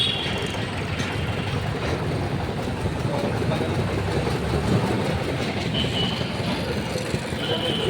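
A train rumbles steadily overhead on a railway bridge, heard from directly beneath it, with loud continuous low rolling and wheel noise and a brief spoken remark under it.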